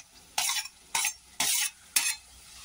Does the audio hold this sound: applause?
no